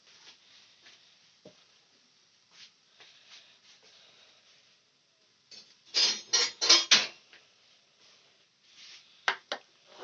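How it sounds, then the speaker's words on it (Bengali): A metal lid comes off a cooking pot after fifteen minutes of cooking, a few sharp clanks and scrapes close by, set against faint kitchen rustling in an otherwise quiet room. "এবার আমি একটা ঢাকনাটা তুলে দেখে নেব।"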